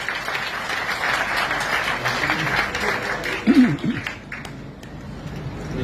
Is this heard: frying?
no